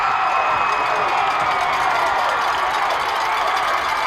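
A high school football stadium crowd gives a sustained loud roar of cheering and shouting, with a steady dense wash of voices and some clapping throughout.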